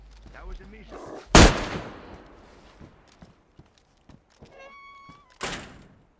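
A shotgun blast in the DayZ video game cracks out sharply once, followed a few seconds later by a second, softer shot, with scattered thumps and a voice chatting between them.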